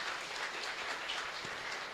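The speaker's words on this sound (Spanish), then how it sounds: "Fuerte aplauso para nuestra comunidad." Audience applause for the community at a live Mass in the Santísima Cruz chapel, a steady patter of many hands clapping, fairly faint and distant throughout.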